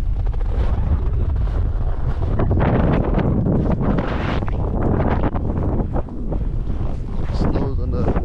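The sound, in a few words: strong wind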